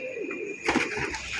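Pigeons cooing close by, a short soft throaty coo rising over a faint background hum, quiet and brief.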